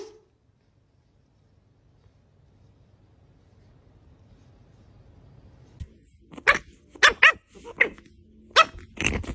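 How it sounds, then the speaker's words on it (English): After several seconds of near silence, a pug barks a handful of sharp, loud times in an uneven burst, close by. "Bark at your dog. Woof!"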